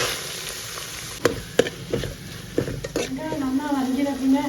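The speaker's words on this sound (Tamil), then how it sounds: "அதே குக்கரில் எண்ணெயை ஊற்றி இஞ்சி பூண்டு வதக்கிங்கோ. வாசனை போனோன்னா பொடிப்படியாக வைக்கிற வெங்காயத்தை போட்டுருங்கோ." Onions, ginger and garlic frying in oil in a pressure cooker for pav bhaji, a steady close sizzle with a few sharp stirring knocks against the pot, and a voice talking over the latter half.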